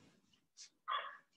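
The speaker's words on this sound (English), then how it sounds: "The dog's gonna start barking." A dog in Cambodia gives a short, faint bark and then a louder yelp in the morning, two brief calls over near silence.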